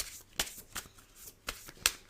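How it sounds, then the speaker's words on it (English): A deck of cards being shuffled in a few quick riffling bursts, crisp and close, spaced irregularly with quiet gaps between. "So I will now shuffle"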